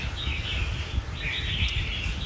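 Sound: caged songbird calling

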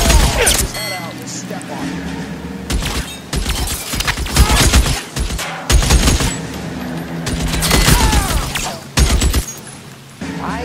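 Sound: gunfire in a shootout, from the video game L.A. Noire

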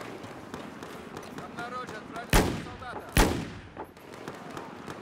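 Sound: Desert Eagle pistol hip-fire gunshots in Battlefield 4 video game

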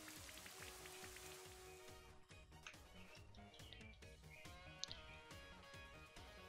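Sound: rain sound effect from a video game

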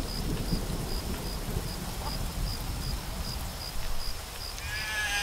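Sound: rain and thunder in video game

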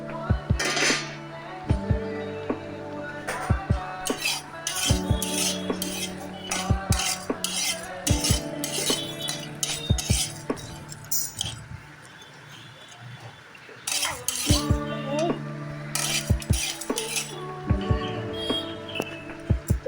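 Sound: dry roasting whole spices in a dry pan

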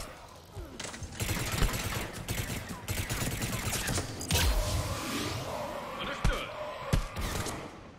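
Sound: gunfire from Garrus in the video game Mass Effect 3

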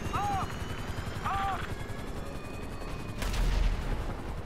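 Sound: helicopter and gunfire in GTA 5 video game

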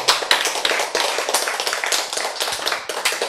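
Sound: audience clapping

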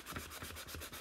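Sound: sanding the edge of a chalk craft piece

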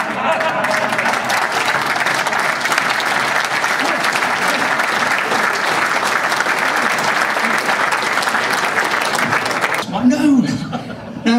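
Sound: audience applause after magic trick with water

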